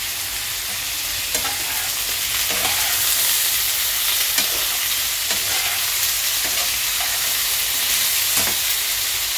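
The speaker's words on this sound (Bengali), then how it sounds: "এটাকে আমি ভালো করে নাড়াচাড়া করে ঢাকা চাপা দিয়ে ভাজা করে নিচ্ছি" Sliced ridge gourd with turmeric stir-fries in a pan, a loud steady sizzle punctuated by repeated scraping strokes of a spatula at a regular pace, close up and without speech.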